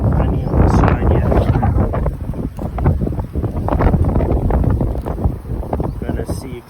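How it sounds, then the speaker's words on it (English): Strong wind gusts across an outdoor apiary during summer beekeeping in South Africa, buffeting the microphone with loud, continuous rumbling roar; a voice talks briefly underneath. "It's quite windy"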